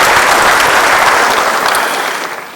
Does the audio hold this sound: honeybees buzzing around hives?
no